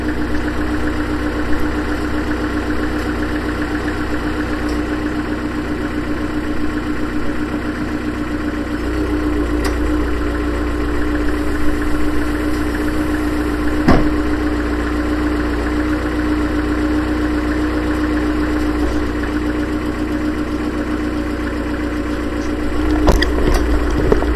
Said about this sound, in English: So the engine's running with the aircon on full blast on recirculation.